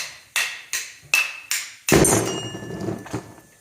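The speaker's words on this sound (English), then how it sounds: "Bearing knocking out is done best with a hammer" Four sharp metallic hammer blows ring out in a steady rhythm, then a heavier strike leaves a ringing clang as a countershaft bearing knocks loose from a Datsun FS5W71B transmission.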